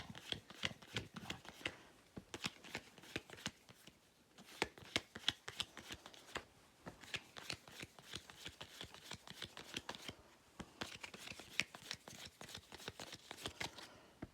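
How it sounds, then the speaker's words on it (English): Playing cards for the Cheez-Tricks game are dealt out onto a table for several players, giving a steady run of quick soft card slaps and flicks that goes on without pause and with no talking. "I believe you just deal them all out."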